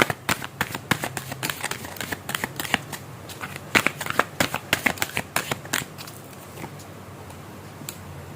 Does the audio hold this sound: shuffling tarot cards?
yes